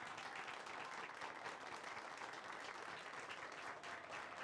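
A crowd in a video game applauds steadily, dense continuous clapping that holds at an even level from start to finish.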